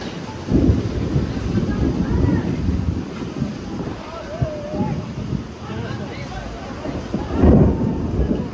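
A thunderstorm with rain approaches over a farm, with deep rumbles and gusty wind buffeting the microphone, louder bursts near the start and end, while people talk throughout.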